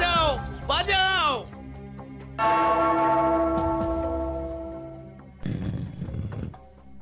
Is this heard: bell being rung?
yes